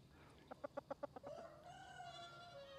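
Chickens clucking close by: a quick run of about six short, evenly spaced clucks, then a longer drawn-out rising call, with no talk over it.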